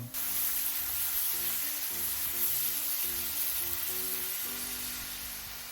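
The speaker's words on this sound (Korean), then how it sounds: "마늘을 볶아주세요." Garlic and dried peperoncino chili sizzling in oil in a frying pan for a squid gambas dish, a loud, steady, close hiss that fades slightly toward the end.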